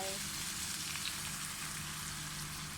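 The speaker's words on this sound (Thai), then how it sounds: "จากนั้นเราก็เติมน้ำนะคะเติมน้ำลงไป" Sea bass frying in a pan for a stir-fry with Chinese celery, a steady close sizzle and crackle of oil running throughout.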